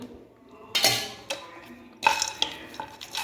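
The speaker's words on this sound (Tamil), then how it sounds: "இந்த நெடக்கடலை வறுபடுறதுக்கு லைட்டாக நெய் சேர்த்துக்கலாம்" Peanuts are stirred while lightly roasting in ghee, a few quiet scrapes and clinks of a utensil against the pan in short bursts, with faint sizzling in the background.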